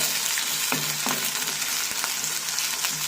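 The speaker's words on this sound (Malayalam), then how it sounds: "കടുക് വറുത്ത് കൊടുത്തിട്ടുണ്ട്" Mustard seeds crackling in hot oil, a continuous loud fizzing sizzle punctuated by a few sharp pops and spatters, close and with nobody talking.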